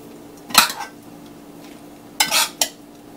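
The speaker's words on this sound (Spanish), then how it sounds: "Ahora voy a agregar la quinoa que ya está cocida." Cooked quinoa being spooned and stirred: a few close, bright metallic clinks and scrapes of a spoon against a dish, spaced apart over quiet background, with no talking.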